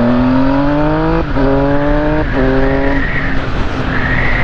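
A motorcycle fitted with a quickshifter accelerates hard, its engine note climbing steeply and then dropping sharply at each clutchless upshift, with two quick shifts in a row before the revs settle lower. It is loud, close and heard alone.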